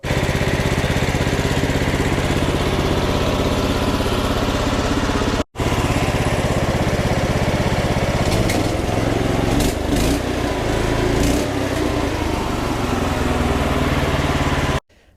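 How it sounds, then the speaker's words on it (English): An old tractor engine running steadily on a cold day, loud and close, with a rough chugging idle that briefly cuts out before resuming, no talking. "All right, the tractor runs."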